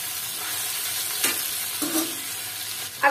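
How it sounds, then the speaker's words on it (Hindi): Fried tinde (apple gourd) tipped into a pan and frying for a masala tinde curry. A soft, continuous sizzle is broken by a few short scraping stirs near the end, with no one speaking. "ये हमने फ्राई किए हुए इसमें टिंडे डाल दिए हैं।"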